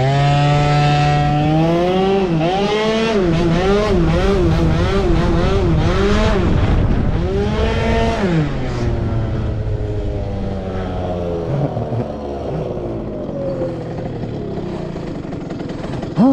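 A motorcycle engine revs repeatedly, its pitch climbing and dropping in quick swells before settling into a lower, steadier drone.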